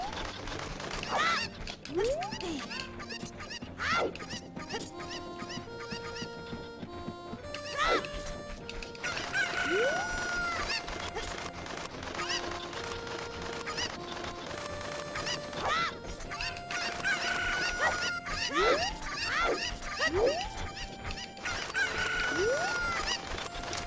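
Chickens in The Legend of Zelda: Ocarina of Time cluck and squawk in scattered bursts over a steady background of game music, with occasional rising calls and a brief crash.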